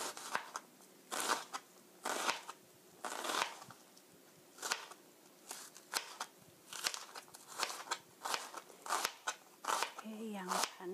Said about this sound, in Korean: 이렇게 양파는 다져주시고요